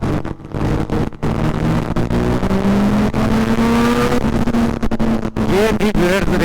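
Honda CB250F Twister and Kawasaki ZX10R motorcycles at a drag race start in Pakistan: loud engines rev with rising pitch and build to a sustained, close roar.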